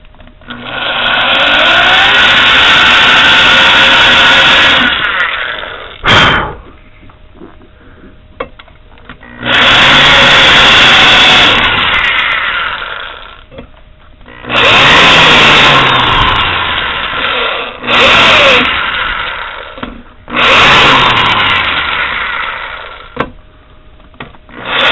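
A power tool chamfers threaded bolt holes in repeated loud, harsh whirring bursts of about four to five seconds each, with short quieter pauses between them.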